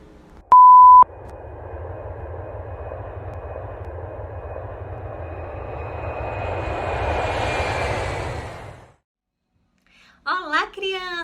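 Airplane taking off, a short beep followed by a steadily building engine roar that swells for several seconds and then cuts off, with a voice speaking afterward.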